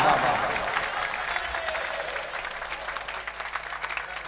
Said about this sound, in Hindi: जोरदार तालियां बजनी चाहिए आपकी,